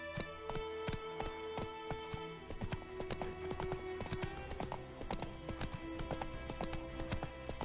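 Horse hooves gallop in a steady clip-clop rhythm in The Witcher video game, with a brief whinny, game music and faint ambient layers running underneath throughout.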